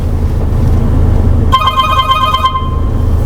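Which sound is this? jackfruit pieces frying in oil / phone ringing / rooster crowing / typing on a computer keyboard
phone ringing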